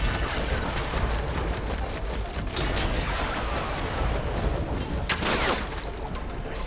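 Sustained Burst weapon technique from Horizon Forbidden West firing a dense, continuous volley of rapid shots that holds steady for several seconds, with a brief surge of crackling impact near the end.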